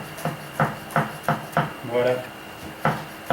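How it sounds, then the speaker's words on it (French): A chef's knife chopping parsley on a cutting board makes a close series of crisp, evenly spaced knocks, with a brief pause where a voice speaks in the middle. "je vais commencer par déjà commencer à couper mon persil comme ça"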